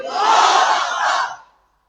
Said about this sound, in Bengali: উঁচু আওয়াজে তাকবীর দিতে হবে, আল্লাহু আকবার, নারায়ে তাকবীর